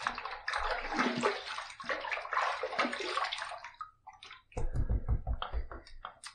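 Tap water runs steadily while a razor blade is rinsed during a wet shave, a broad continuous splashing that breaks off briefly and then resumes with heavier splashing.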